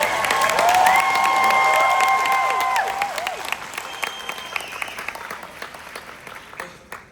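An audience claps at a Riman convention in Las Vegas, the applause filling the hall at first and then thinning out over several seconds while a few cheering voices rise above it.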